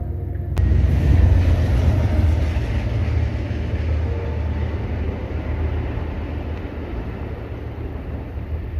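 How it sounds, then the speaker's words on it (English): A heavy, continuous low rumble of a train rolling past nearby, steady and loud throughout, with a sharp click near the start. "Yeah, the train's not gonna stop."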